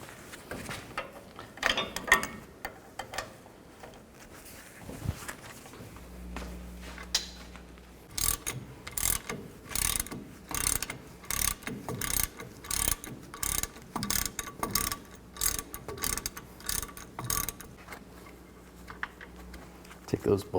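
A ratchet with an 18mm socket loosening the caliper bracket bolts on a 1999-2007 Chevy Silverado 2500, giving a quick run of close, sharp clicking bursts after a quieter start.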